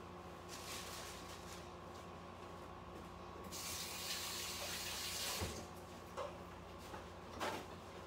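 Running tap water rinsing butter off dishes, a continuous faint hiss under a low hum that grows into a louder spray midway, with a few clinks and knocks of handled dishware.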